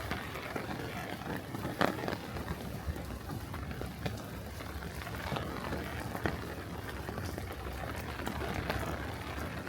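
Steady rain patters and hisses continuously at a marina, with occasional louder drips and splashes standing out.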